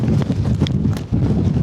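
Gale force wind roars across the microphone at Dale Head Tarn in the Lake District. The buffeting is loud, continuous and low, with gusty surges and thumps.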